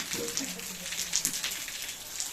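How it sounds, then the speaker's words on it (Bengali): Monsoon rain pattering steadily on surfaces at an old-age home, a dense, even hiss with scattered louder drops, fairly close, no speech. "বর্ষা হচ্ছে"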